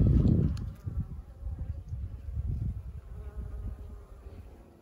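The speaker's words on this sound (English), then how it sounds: "Lots and sorts of different bees here." Assorted bees buzzing around a flowering bush basil in a spring permaculture food forest garden, a steady close hum that swells and fades in irregular pulses, loudest at the start, with no talking.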